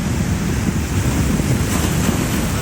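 Surf rolls in steadily on a flooded beach at high tide in North Wildwood, with loud gusting wind buffeting the microphone and a continuous wash of waves close by.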